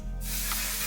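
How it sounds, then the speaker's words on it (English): A single continuous hiss of One Size setting spray misted from a close bottle, starting abruptly and holding loud and steady to the end. "Just don't breathe when you spray her, okay?"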